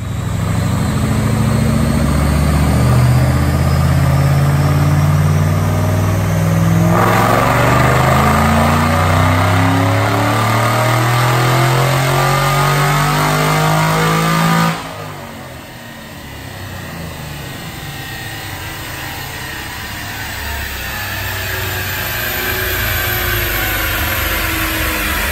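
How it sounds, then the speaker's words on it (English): A 2005 Ford Mustang GT with a manual transmission, Roush supercharger, Brenspeed 560R package, high-flow cats and aftermarket mufflers makes a dyno pull. The engine roars loudly and climbs steadily in pitch for about fifteen seconds, then lets off and drops to a lower drone. "So we're gonna make a pull on the dyno and check the numbers out."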